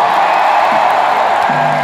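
A live concert crowd on the Get Happy Tour roars and whoops for the band, a dense, steady wash of cheering close and loud for a couple of seconds.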